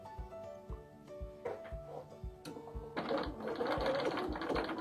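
A sewing machine stitches a blind hem on a dress using a blind-hem presser foot, a steady, close mechanical rhythm of stitches that grows louder and busier partway through, with no talking.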